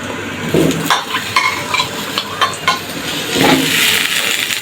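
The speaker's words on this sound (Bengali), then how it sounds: "আমি এখন মাংসের জন্য আলু ভেজে নিচ্ছি। কড়াইতে তেল দেওয়াই ছিল, আমি আলুগুলো ছেড়ে দিচ্ছি।" Potato pieces dropped into hot oil in a wok, for frying ahead of a meat dish; a steady broad sizzle runs throughout with a few stirring scrapes, close and fairly loud, rising in a burst near the end.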